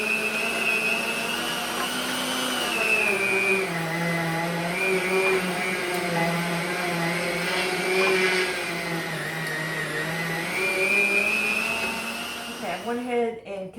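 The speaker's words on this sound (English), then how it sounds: "So, I'm going to continue grinding this up." An electric meat grinder grinding beef into hamburger gives a steady, loud motor whine with shifting pitch under a low voice, then it winds down at the end.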